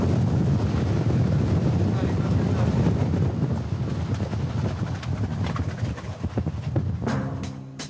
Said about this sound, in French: Là, il y a un bon coup de Mistral.